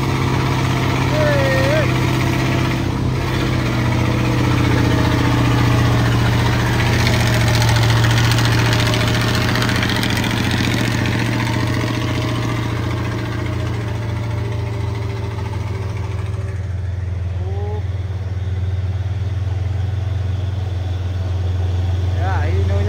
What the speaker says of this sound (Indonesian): Suara Puso the Great-nya seperti suara kapal.